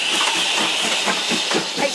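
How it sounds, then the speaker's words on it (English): A British Rail HST high speed train departing Paignton station, a steady broadband rumble and hiss of diesel engines and rolling stock with faint rail clatter, close and continuous throughout. "I think the HST's departing."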